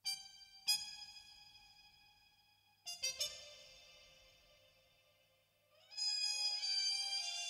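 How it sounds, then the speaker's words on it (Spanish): A top-melody trumpet line from the Sync Player plugin plays in a trap-meets-bolero song, bright sustained notes with sharp attacks, a pause mid-phrase, then a rising swell into a louder held passage, with no talking. "Aquí agregamos una trompetica criminal."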